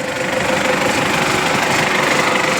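An MTZ 892 tractor engine runs steadily at close range during hay mowing with a rotary mower, giving a loud, continuous drone with a constant hum and no pauses.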